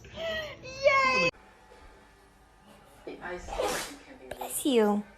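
Dogs sneezing in a home compilation, with sharp bursty sneezes around the middle and end, surrounded by nearby human voices and high excited talk.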